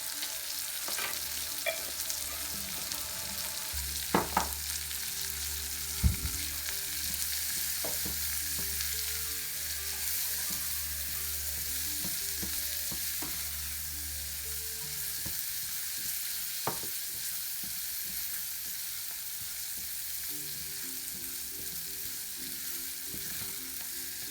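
Split wheat upma with turmeric frying in a pan, a steady low sizzle that runs throughout, broken by sporadic scraping and knocking of a spoon stirring, with no talking.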